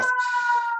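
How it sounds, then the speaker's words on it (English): A brief, steady electronic siren tone from an emergency vehicle in New York City, fairly faint and distant, holding a sustained pitch through the short snippet. "If you hear the sirens in the background,"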